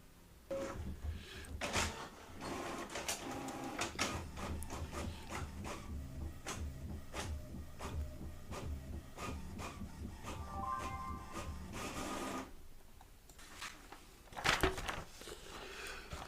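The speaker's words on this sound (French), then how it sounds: "Je vais imprimer une page de diagnostic." HP 62 inkjet printer printing a diagnostic page, a steady faint whirring and clicking of the carriage and paper feed over about twelve seconds, followed by a couple of brief knocks.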